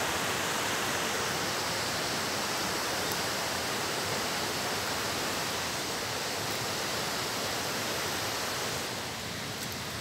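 Water from the Mata Ie spring in Aceh Besar rushes very heavily after hard rain, a dense, steady, loud roar like a waterfall that barely changes throughout.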